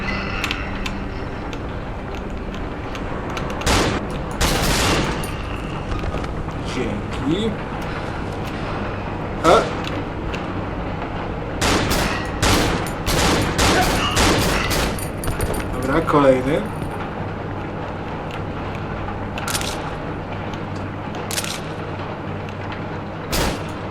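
Bursts of gunfire in the horror video game Cry of Fear, sharp repeated shots in clusters across the scene with a creaking, mechanical background, and someone talking excitedly between the shots.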